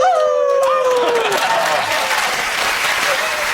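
A man imitates a wolf howling at the moon with a wavering, falling vocal howl lasting about a second and a half, quickly swamped by loud, sustained studio audience applause and cheering.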